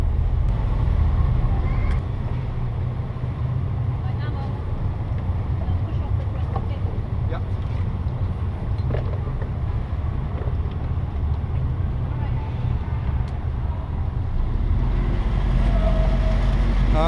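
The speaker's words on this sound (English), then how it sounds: "Engine on for me." The new engine of a Woods Gypsy catamaran runs at a steady low drone near a lock, joined by wind buffeting the microphone and faint voices now and then.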